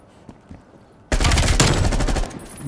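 Gunfire in the online shooter Call of Duty Black Ops Cold War: after a quiet second with faint clicks, a loud sustained burst of automatic fire erupts and rattles on for over a second before easing off.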